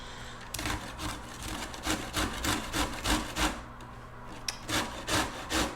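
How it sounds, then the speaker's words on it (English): Cauliflower rubbed against a sharp OXO grater on the big holes, a close rhythmic rasping with repeated strokes about twice a second, loud and alone without talk. "maybe it's best to grate the flower part first"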